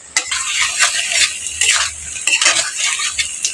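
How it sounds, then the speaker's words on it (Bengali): Potatoes are stirred and sautéed in spiced oil for a Bengali fish curry, a spoon scraping and clinking against the pan in quick, uneven strokes over a soft sizzle, close and fairly loud. "ভালো করে কষিয়ে নিতে হবে আলুটাকে"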